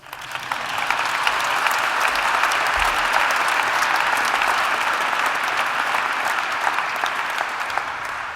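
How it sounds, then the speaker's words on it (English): Sustained audience applause at a European heritage awards ceremony in Oslo City Hall, a dense, even wash of many hands clapping that swells up quickly and holds steady for several seconds, loud and close. "The 2nd place, yes, you can applaud."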